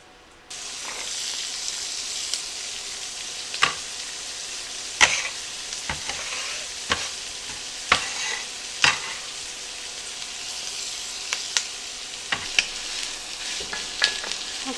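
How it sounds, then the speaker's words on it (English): Diced peppers, onions and jalapenos sizzle steadily in hot cooking oil for a vegetarian bean chili, a broad continuous hiss broken by sharp stirring clicks and scrapes throughout, with no voices. "Once this starts sizzling, we're going to add the diced peppers and the onions, and the peppers will include the jalapenos"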